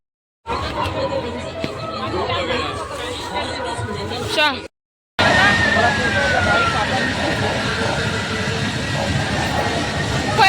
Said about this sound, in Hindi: रेलगाड़ी चलत, रेलगाड़ी रेलगाड़ी रेलगाड़ी चलत है